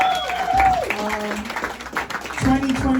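Party crowd applauding at a single's release event: a steady wash of clapping and cheering under a voice talking, with music tones running through it.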